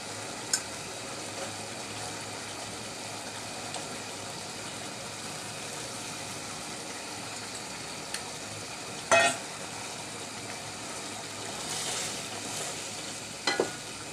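Koi fish fry in a pan with spices, a soft steady sizzle with occasional sharp scrapes and clatter from stirring, and no talk.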